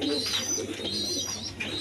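A caged pair of pigeons nesting with eggs and chicks, soft low cooing repeating close by over a faint background hum, with no talking.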